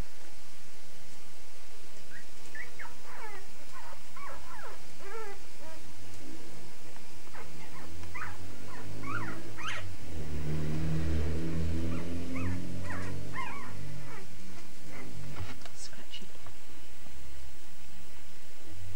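Four-day-old puppies, sable and tricolour, whimper and yip in thin, high, scattered squeaks over a hissy background, with a low, muffled rumble of handling in the middle.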